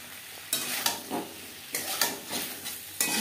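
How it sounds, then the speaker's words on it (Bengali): Boiled potatoes stirred with spices and drumsticks in a pan: repeated scraping strokes in bursts over a low sizzle, close and with no voices. "মশলা ও ডাটার সাথে আলু বেশ ভালো করে মিক্স করে দেবো"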